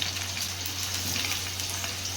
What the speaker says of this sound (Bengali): সেটা আমি ভেজে নিচ্ছি লাল লাল করে